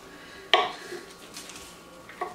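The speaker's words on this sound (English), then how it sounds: "So I'm going to cut my pound of butter in half" Knife cutting through a one-pound block of butter on a kitchen counter for butter tarts, giving a sharp clack of blade on board, a quiet scrape, then a second lighter tap near the end.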